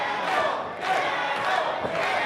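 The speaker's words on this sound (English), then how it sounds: "The crowd trying to bring Jackal back to life" A wrestling crowd at a CCW match roars and cheers in a continuous swell, with surges of shouting rising and falling across the arena.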